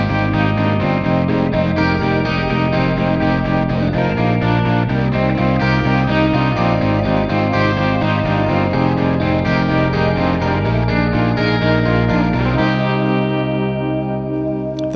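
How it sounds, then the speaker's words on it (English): An 80s-style clean electric guitar and a tremolo guitar play over a bass line, with chorus and echo effects, in a dense, continuous band passage that fades slightly at the end. "Let's listen to what the 80s clean guitar and the tremolo guitar are doing with the bass."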